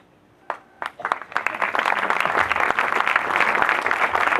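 Applause at a cultural association presentation begins with a few isolated claps, then swells into steady, full clapping from an indoor audience that continues to the end.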